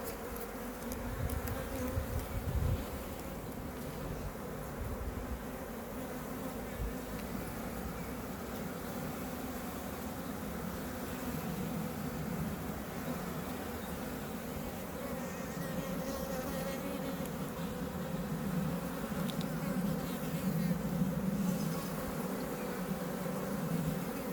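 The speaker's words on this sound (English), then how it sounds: "The bees are their normal, amenable selves, thank goodness." Bees buzz continuously in a steady, dense hum, many insects droning together at moderate volume with no voices.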